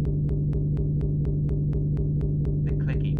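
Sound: synth bass made in Ableton Live from found sounds

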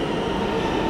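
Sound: New York subway F train arriving

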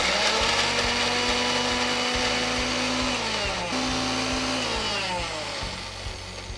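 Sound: grinding ginger and green chili into a coarse paste

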